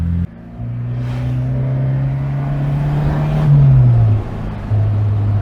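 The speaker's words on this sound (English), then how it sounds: "Oh yeah, it's a very Italian sounding soundtrack. Lampredi's 4-cylinder overhead cam engine, proper Italian engineering." A Fiat X1/9 with its Lampredi four-cylinder overhead cam engine drives along a road, a steady close engine drone holding pitch, then dipping as the revs drop and settling again.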